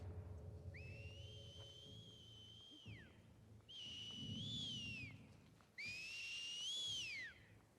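Three long, clear whistled tones in The Last of Us Part II video game, each rising then holding before sliding down, over faint background hum and noise.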